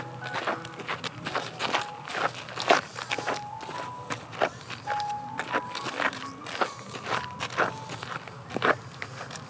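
Footsteps crunch steadily along a hillside path at a flower park in Khao Yai, close and fairly loud, with outdoor ambience and occasional high tones in the background.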